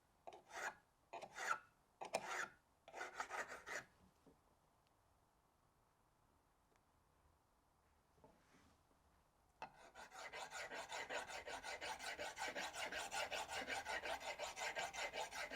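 A drill bit is sharpened by hand with a file: four quick rasping strokes, a quiet pause with a faint scrape, then a long run of steady rhythmic filing close to the microphone.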